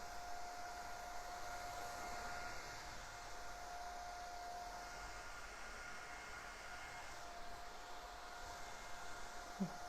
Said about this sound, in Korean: 선생님처럼 선풍기가 있다면 미니 선풍기로 충분히 말려주세요.